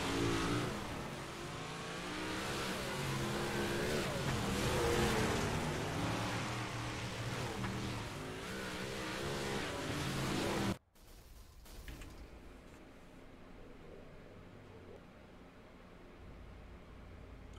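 Race cars roar and rev together at the start of an American All Star race at Fairbury, a loud sustained engine drone that cuts off abruptly partway, leaving faint distant engine noise.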